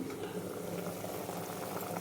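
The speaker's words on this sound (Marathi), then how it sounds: "मस्त एकदम छान एकदम दणकून उकळी आलेली आहे आणि पाणी पण भरपूर आहे" Water boils vigorously in a pot of mutton with a steady, continuous bubbling and churning roar. It sounds close and even throughout, with no talk.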